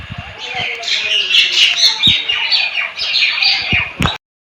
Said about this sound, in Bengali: তো বন্ধুরা দেখতে পাচ্ছ কত শালিক কত শালিক পাখি দেখো